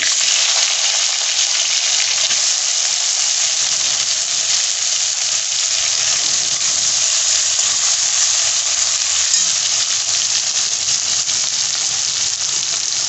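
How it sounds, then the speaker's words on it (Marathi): Chopped tomato goes into garlic frying in hot oil for a soybean-chunk curry, giving a loud, steady, continuous sizzle with no voices throughout. "लसूण चांगला फ्राय झाला की हा जो टोमॅटो आहे तो टाकून घ्यायचा"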